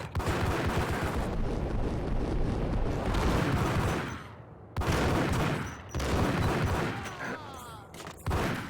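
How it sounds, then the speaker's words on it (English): Gunfire in the video game Max Payne comes in loud, dense bursts of shots that rattle close and almost nonstop, broken by a few short pauses. "Someone else is shooting me"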